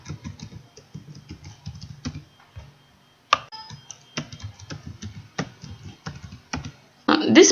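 An administrative password is typed on a computer keyboard in short clusters of crisp key clicks, with a few sharper strikes and pauses between bursts.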